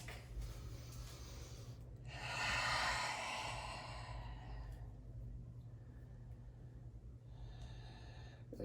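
A long open-mouth exhale during a slow, stretchy yoga flow, a soft breathy rush lasting about two seconds, then fading into quieter room hiss with a fainter breath near the end.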